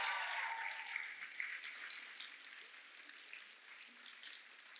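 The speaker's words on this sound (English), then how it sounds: "Can we have a big round of applause for Ms. Madhu from the events team" Applause from an event audience, a dense patter of many hands clapping that starts strongest and gradually thins and fades, with a few louder individual claps scattered through it.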